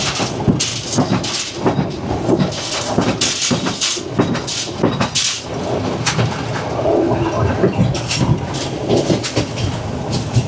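A train runs along the seacoast on the Colombo to Galle line in Sri Lanka, a loud, steady rumble with repeated clattering wheel beats and wind noise throughout.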